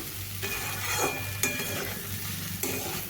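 Potatoes and chana dal fry in a pan with a continuous close hiss, broken by three stirring scrapes that land about a second apart.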